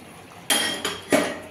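Paneer is dropped into curry in a pan, heard as three sharp clinks and knocks against the cookware about a third of a second apart, close and fairly loud over quiet background.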